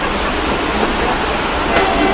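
A passenger train standing at a station platform gives a steady, loud broadband rumble and hiss with faint clanks, heard close and continuous throughout.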